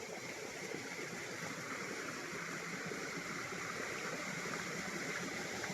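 A small stream flowing across farm land, a steady broadband rush and gurgle of water that stays even and close throughout with no voices.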